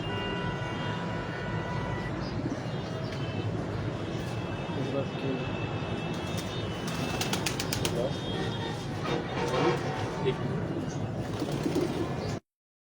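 Pigeons coo on a rooftop loft in Mandi Mor among a bird fancier's flock, soft and steady under a busy wash of background noise, with people talking nearby and a brief higher flutter of sound midway.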